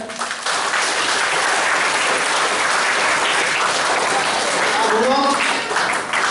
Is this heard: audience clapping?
yes